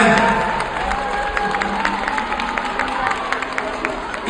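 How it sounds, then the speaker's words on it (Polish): Parents at an indoor kids' athletics event applaud and cheer in a loud, continuous wash of clapping, with children shouting and crowd babble mixed in throughout. "Oklaski od rodziców, od nas wszystkich."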